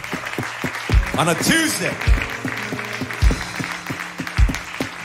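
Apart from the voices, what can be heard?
church congregation clapping hands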